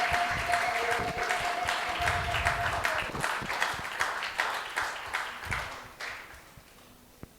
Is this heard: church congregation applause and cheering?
yes